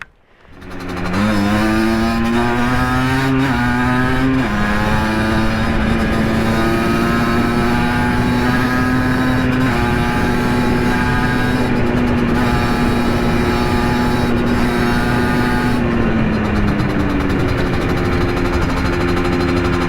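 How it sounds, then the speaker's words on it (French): Motorcycle being ridden on a morning commute, a steady engine drone with clear harmonic tones that shift as it changes speed early on, then holds at a constant pitch before easing off near the end. "C'est trop cool la moto."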